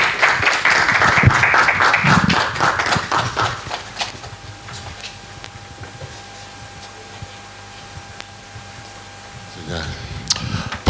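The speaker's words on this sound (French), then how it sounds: "nous allons applaudir puissamment le Seigneur pour son serviteur" A church congregation at a youth day ceremony claps for a visiting preacher, with dense rhythmic clapping and voices over it at first, fading to quieter room sound before a brief burst at the end.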